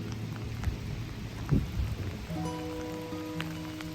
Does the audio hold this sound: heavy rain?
yes